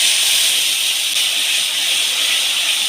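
Spice paste sautéing in oil in a pan for a paneer curry, a steady bright sizzling hiss that stays loud and even throughout.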